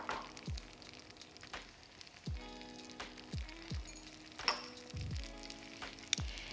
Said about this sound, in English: I'll let this simmer until all of the sugar is melted and the flavors have melded together